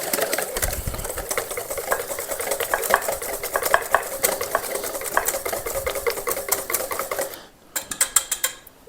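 Chocolate Yule log batter is whisked in a bowl with fast, steady clinking and scraping against the bowl's sides. The sound is close and busy and briefly drops away near the end before a few sharp taps.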